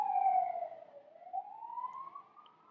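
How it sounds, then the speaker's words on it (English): An emergency siren passes outside, a single wailing tone that dips then rises again, heard faint and somewhat distant with no talking. "Sorry, I'm waiting for that siren to pass."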